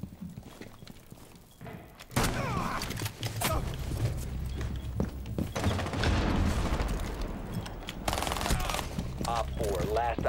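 Shotgun fire in a video game, dense repeated blasts and thumps rolling on continuously after a quieter opening, with a player's voice talking over the action.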